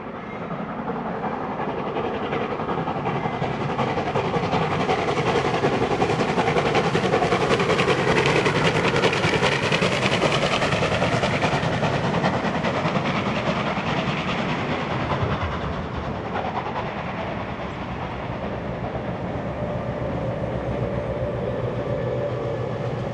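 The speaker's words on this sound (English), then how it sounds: "Here we see the train passing us at Carlton." Heritage train 3526 with 4201 assisting rolls past at Carlton, a loud sustained rumble of wheels and carriages swelling to a peak midway and then easing as it moves off, with faint clickety-clack over the rails and no talking.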